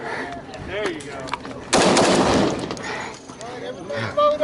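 Gunfire at a World War II reenactment in Carthage, Tennessee, with a B.A.R. automatic rifle among the weapons: a loud, sharp burst of shots near the midpoint, ringing out over ongoing talk and shouting among the reenactors.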